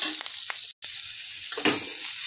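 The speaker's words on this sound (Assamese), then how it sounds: "ইয়াতে মই কেইটামান কেঁচা জলকীয়া দি দিলোঁ।" Raw green chillies frying in a pan, a close steady sizzle with a short cut in the middle and a few stirring scrapes, no voices.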